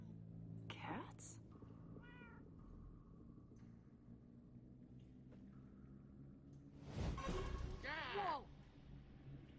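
Cats meow in the Minecraft: Story Mode video game, a few short wavering mews early on and a louder cluster of cries near the end, set against a low ambient game rumble with soft voices in between.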